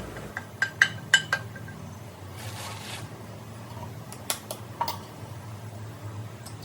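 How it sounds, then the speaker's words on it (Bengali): An egg cracked against a pan and dropped onto fried vegetables while making fried rice, giving a handful of sharp clinks and taps over a low steady kitchen hum, fairly close and moderately loud. "সবজিটা যখন ভাজা ভাজা হয়ে এসেছে এরপরে একটা ডিমটা ফাটিয়ে দিয়ে দেবো"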